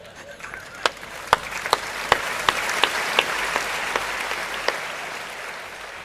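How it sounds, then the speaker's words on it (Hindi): A few people clap at a Hindi comedy poetry recital, scattered separate claps rather than full applause, spaced sharp hits over a low murmur of room noise. "2-3 लोग ताली बजा रहे हैं"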